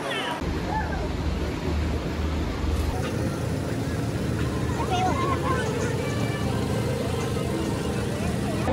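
A boat engine runs on a boat trip off Tobago, a steady broad drone mixed with wind and water noise throughout, with voices talking over it.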